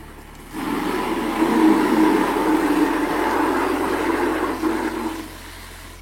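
Water rushing from an EcoCrystal pre-filter into a bucket as its lower part is turned by hand, a loud, steady close-up gush lasting several seconds before it eases off.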